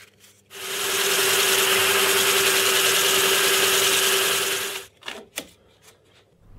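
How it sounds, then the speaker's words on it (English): A drum sander on a pillar drill whirs steadily against wood for about four seconds, a loud, close abrasive hiss, then winds down followed by a few knocks. "sanded the outer wall using the pillar drill drum"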